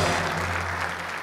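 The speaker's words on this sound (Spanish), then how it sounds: "vamos a aplaudir" Studio audience applauding a volunteer firefighter contestant on the Argentine TV quiz show ¿Quién quiere ser millonario?, a steady wash of clapping at moderate level with faint background murmur.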